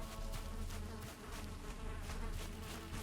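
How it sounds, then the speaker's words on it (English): Honey bees humming and buzzing around a hive in a forest, a dense, droning insect buzz with layered tones that swells and pulses slightly, steady and fairly near. "you hear this like humming, buzzing, right?"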